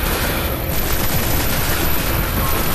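The Midgard heavy machine gun in Destiny fires without a break, a dense, loud, nonstop roar of rapid shots that fills the whole stretch.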